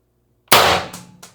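One crisp, loud shot from a Mercury Rise IntruBuster G2 air gun running on 24 g CO2 with a CAR expansion stock, its sudden blast trailed by two short decaying knocks, nothing else around it.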